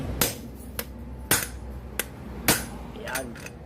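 Metal hammer blows strike the chain of a Honda Wave 100 motorcycle, five sharp, loud, close impacts spaced irregularly with brief ringing between them.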